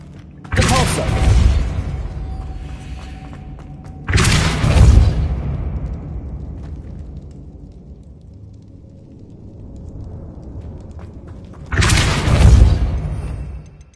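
Depulso spell cast in Hogwarts Legacy on PS5, three loud forceful bursts, each a sharp whooshing boom that decays into a lingering rumble, spaced several seconds apart.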